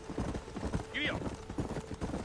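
A horse is ridden in the Western video game Red Dead Redemption, with steady clip-clopping hooves, a short whinny midway and a voice talking over the hoofbeats.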